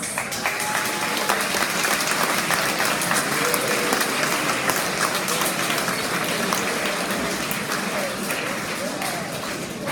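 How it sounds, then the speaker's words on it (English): Long, continuous applause from a graduation ceremony audience, dense and steady for the full length, with faint voices mixed into the crowd. "You guys owe these guys a big round of applause."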